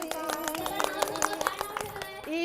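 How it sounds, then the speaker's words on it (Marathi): A small group clapping at a child's naming ceremony, quick irregular claps close by, mixed with chatter and a voice rising toward the end. "चला टाळ्या वाजवा"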